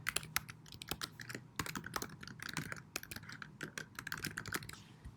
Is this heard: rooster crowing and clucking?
no